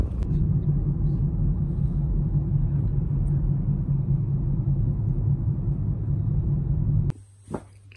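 A car drives on the road, giving a steady low rumble of engine and tyre noise from inside the vehicle that stops abruptly near the end.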